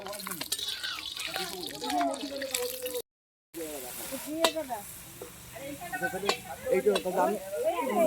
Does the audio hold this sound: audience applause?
no